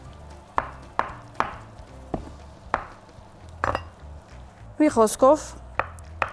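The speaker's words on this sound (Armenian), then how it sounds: "մոցարելաները այսպես կտրատելու եմ ու ավելացնելու եմ" Knife strokes cut fresh mozzarella cheese on a board, with a series of sharp, evenly spaced chops up close and a brief clatter midway, while someone speaks.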